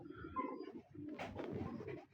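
Pigeons coo softly nearby, several low, throaty rolling calls overlapping in a quiet setting.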